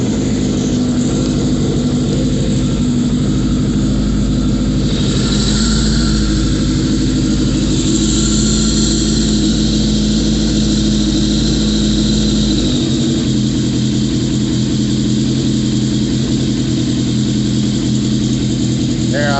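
A riding mower engine runs loud and close, idling high with a steady drone that briefly sputters and shifts pitch partway through.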